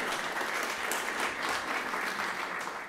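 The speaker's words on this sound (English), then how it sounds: "Mark, let's give the airport a big round of applause." A large audience applauds for Cape Town International Airport at an awards-style review event, steady dense clapping filling the whole stretch without a break, fairly distant and even in level.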